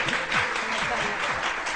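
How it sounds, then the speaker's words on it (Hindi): A morning-show studio audience claps for family guests, a brief, moderately loud burst of applause with a voice sounding over it. "इनके लिए बहुत सारी तालियां होनी चाहिए"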